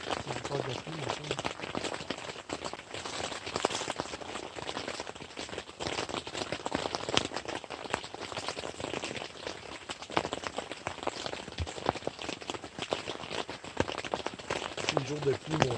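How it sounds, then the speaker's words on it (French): Rain falls steadily outdoors with a dense patter of drops on surfaces, soft and continuous throughout, as someone talks over it. "Il y a encore de la pluie, maintenant."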